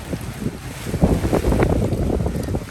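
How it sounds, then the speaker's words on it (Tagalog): Strong wind buffeting the microphone beside a river in the Pagudpud province countryside, a loud rough rushing roar with gusty swells and no voices. "Kaso malakas yung hangin."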